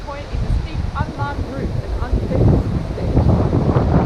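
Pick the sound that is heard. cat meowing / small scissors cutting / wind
wind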